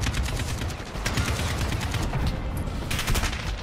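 Rapid automatic gunfire in the shooter game Call of Duty Modern Warfare, with dense overlapping bursts of shots crackling continuously and fairly loud, with no voices.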